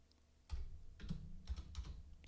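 Typing on a computer keyboard, a close cluster of quick irregular clicks and taps over about two seconds, with no talk.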